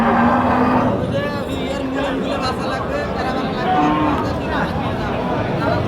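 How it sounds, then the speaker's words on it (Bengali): At the Lalbag cattle market in Rangpur, cows low with drawn-out moos over the murmur of a crowd, while a person talks nearby. "দেখুন এই পাশে আরো একটি সুন্দর বিশাল লাল কালারের গরু দেখতে পাচ্ছি"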